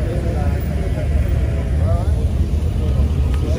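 A GT4 car runs on the Nürburgring circuit amid other sports cars, producing a steady low engine rumble with people talking over it.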